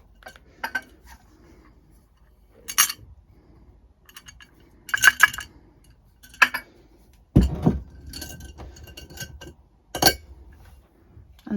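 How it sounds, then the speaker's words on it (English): Oats and plain flour mixed in a bowl, heard as scattered clinks and light scrapes of a utensil against the bowl in short, irregular bursts over quiet gaps. "And mix that all together."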